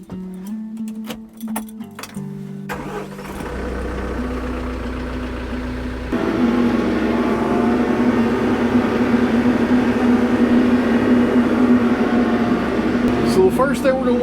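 A John Deere-style 574 farm tractor with an air-conditioned cab starts up, its engine settling into a steady, loud idle close by that runs to the end, after some clinks and handling noises at the start.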